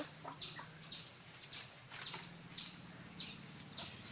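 Chickens in a small backyard coop make short, repeated bird calls, roughly one every half second, at moderate distance over a low background hum, with no talking.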